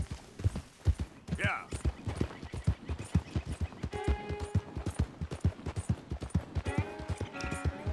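Horse hooves clip-clopping at a steady trot while riding in Red Dead Redemption 2, a continuous rhythmic beat with a brief word spoken over it.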